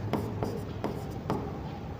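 A pen writing out a Class 10 NCERT height-and-distance trigonometry solution, making soft, close scratchy strokes in four short bursts over a faint room hiss.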